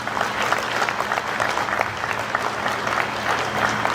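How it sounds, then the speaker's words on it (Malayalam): A crowd at a school annual day event applauds together, a steady, even roar of many hands clapping at moderate distance that holds without pause for several seconds, with no talking over it. "എല്ലാവരും ചേർന്ന് ഒരു നല്ല കയ്യടി ഇത്രയും നേരം നടന്ന പരിപാടികൾക്ക്"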